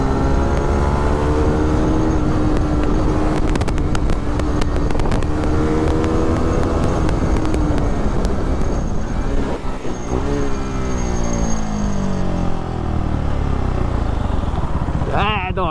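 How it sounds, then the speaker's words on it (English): KTM RC 390 motorcycle with an aftermarket exhaust and a tuned engine revving hard through the gears, loud and close with rising and falling whine and echoing exhaust note. "this exhaust is just creating echoes after echoes. I just love how rev happy this engine's become."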